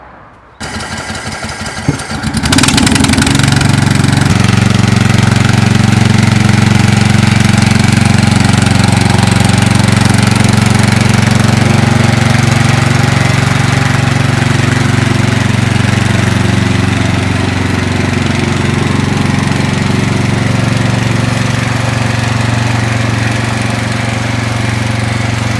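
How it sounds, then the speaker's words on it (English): Feider ride-on lawn mower engine cranks and catches after a couple of seconds, then runs at a loud, steady idle close by for the rest of the clip with a slight pitch dip midway; no voices. "And now we're going to wheel it onto the grass and start her up."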